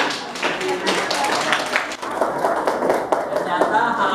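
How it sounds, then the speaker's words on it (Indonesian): Students in a school classroom clap their hands in a steady, dense patter that lasts throughout, with voices talking over the applause. "Luar biasa, tepuk tangan."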